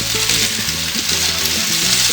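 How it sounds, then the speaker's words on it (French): Diced potatoes fry over high heat in olive oil in a pan, giving a loud, continuous sizzle and crackle, with low background tones underneath and no speech. "Là, vous les faites revenir à feu vif au départ."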